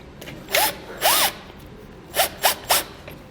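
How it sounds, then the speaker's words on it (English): A drill drives a self-tapping screw with a ring terminal into a trailer frame in five short, sharp bursts, each a quick rising-and-falling whir, close and loud against a quiet background. "take the ring terminal along with the self-tapping screw. We're going to go ahead and just secure this to the frame."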